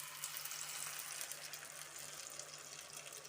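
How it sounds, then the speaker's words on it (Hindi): Leftover soya malai marinade hitting hot cooking oil, a steady bright sizzle hissing continuously at close range with no voices. "कुकिंग ऑयल हमारा गर्म हो गया है और अब जो हमने मैरिनेट जो हमारा बचा हुआ था उसको हम ऐड कर देंगे"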